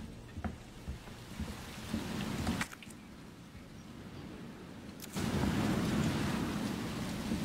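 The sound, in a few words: rain falling in the video game Resident Evil 2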